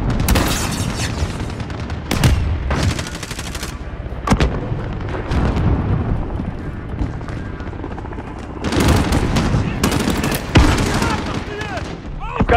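Mortar blasts and gunfire in a Spec Ops Kuvalda video game mission come as loud, repeated booming explosions with rattling shots layered over a rumbling battle din. A radio-style voice speaks at times over the combat.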